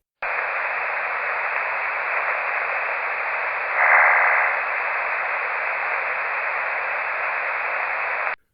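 Continuous SSB receiver hiss with a short, bright burst of warbling FSK441 meteor scatter data tones near the middle, lasting under a second before fading back into static.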